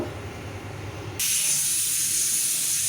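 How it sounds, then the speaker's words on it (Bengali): Pressure cooker whistling steadily while cooking peas for ghugni, a loud continuous hiss that bursts in partway through over a low rumbling boil. "মটরটা সিটি মারতে দিয়েছি"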